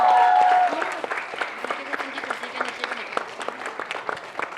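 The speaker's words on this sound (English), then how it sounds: "Please give a round of applause" Audience applause at a comedy fan meet for the film Delhi Belly, a steady wash of many hands clapping that fades slightly after the opening second and carries on at moderate level throughout.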